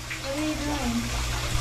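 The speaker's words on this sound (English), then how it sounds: "Should I just get in the shower with you?" Shower water runs in a steady hiss and splash while people talk over it, the spray continuous beneath their voices and a low hum.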